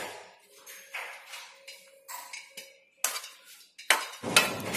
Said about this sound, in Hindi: इसको अच्छे से मिक्स करना है स्पून से